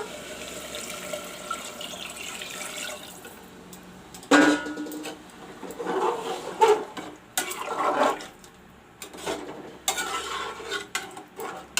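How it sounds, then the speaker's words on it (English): Water splashes into a cooking pot while matar aloo is being made, arriving in several uneven bursts of pouring and sloshing after a quiet start, close and moderately loud. "Put some water."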